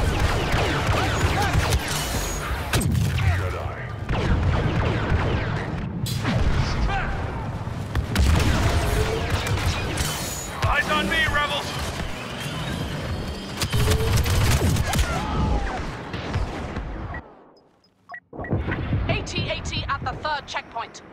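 Rockets and gunfire in the Star Wars Battlefront 2 video game on the forest moon of Endor, dense layered blasts, booms and rapid shots with mechanical whirs and voices, ending in a brief silence and then renewed firing.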